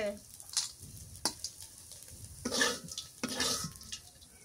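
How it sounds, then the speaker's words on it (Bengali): Bitter gourd fries in plenty of oil with a soft, steady sizzle, broken by occasional spatula scrapes and light clatters against the pan, all fairly faint. "তেল বেশি করে দিয়ে খুব ভালো করে চুন চুন করে ভাজা করলে"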